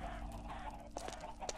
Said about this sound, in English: Lots of chicken spawning.